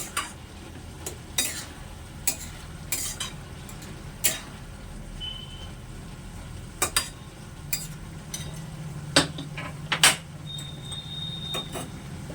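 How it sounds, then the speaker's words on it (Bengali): Cabbage curry ingredients stirred in a pan with a utensil, giving scattered scraping and clinking strokes at an uneven rhythm over a soft background hum, close and moderately quiet. "সবগুলো উপকরণ ভালোভাবে মিশিয়ে নিচ্ছি"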